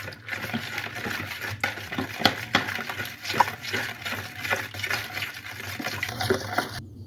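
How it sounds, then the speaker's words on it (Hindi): Water poured into a bowl of chicken marinating with salt and garlic-ginger paste, an uneven close splashing and sloshing with irregular bursts and no speech. "अब हम इसके अंदर पानी ऐड करेंगे।"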